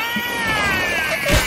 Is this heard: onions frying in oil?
no